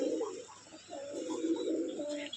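Domestic pigeons kept indoors in a room loft coo softly and close by, a low, throaty burbling that rises and falls in a few overlapping phrases.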